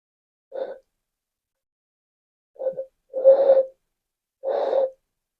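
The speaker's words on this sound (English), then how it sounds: "So this is what a 60 milliliter bottle sounds like." Breath blown across the mouth of a 60 millilitre bottle, four short, hollow, breathy hoots, one alone then three close together, airy and wavering in pitch, heard close with no talking.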